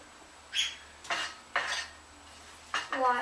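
A spoon stirs beef in a pot, giving four short scraping swishes against the metal with brief pauses between them, close and fairly quiet, no talking.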